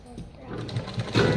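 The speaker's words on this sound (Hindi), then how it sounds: "इस तरीके से हम बिल्कुल पेपर के ऊपर एक एक पैर की सिलाई लगाएंगे।" A sewing machine runs stitches through fabric laid on paper while making a puff sleeve, a close, uneven mechanical whir that builds toward the end, with someone talking over it.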